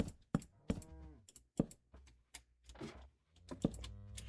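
Cows in a video game moo in several short, close, clipped calls spaced irregularly, with quick clicking taps from a keyboard mixed between them.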